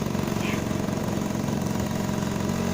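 A motorcycle engine idles steadily close by on a road in Indonesia, a constant low rumble that carries through the whole stretch with no other clear sounds on top.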